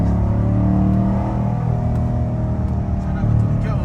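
A modified, US-imported Corvette C7 Stingray engine holds a loud, steady rumble near 4000 rpm, heard close up with people talking over it.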